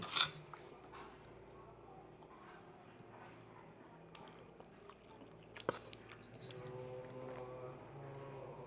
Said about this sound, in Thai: อันนี้ก็มากินลาบ